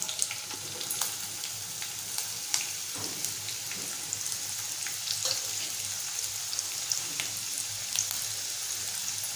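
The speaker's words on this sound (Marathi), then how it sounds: "तेल गरम झालं की त्यामध्ये आपल्याला कांदा आणि मिरची जे आपण कापून घेतलंय ते टाकूया" Chopped onion and chili fry in hot oil in a kadhai with a steady, dense sizzle and crackle, holding even and close throughout with no voices.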